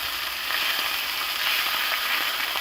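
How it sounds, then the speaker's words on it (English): Beef liver sears in a hot pan with a steady, close, dense sizzle that holds an even level throughout, with faint crackles and no talking. "So you want to put it on there for about 45 seconds or so. Let it sear."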